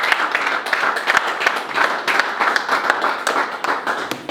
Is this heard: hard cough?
no